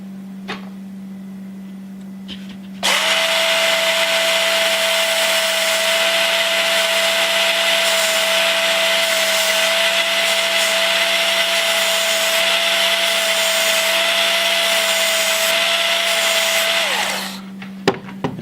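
Power tool grinding a knife blade during sharpening, a steady loud whine running about fourteen seconds after a low hum, then stopping, with no talking.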